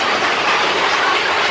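The Big Thunder Mountain Railroad coaster train at Disney World rattles loudly along its track, a continuous close-up rush of clattering wheels and rumbling cars.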